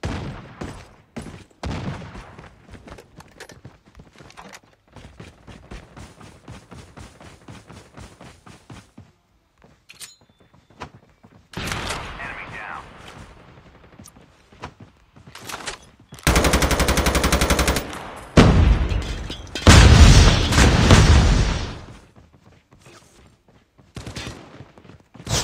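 Video game gunfire from COD Mobile battle royale, an HDR sniper rifle among the weapons: rapid bursts and repeated shots over about twenty-five seconds, growing into loud dense volleys and explosions near the end, with no talking.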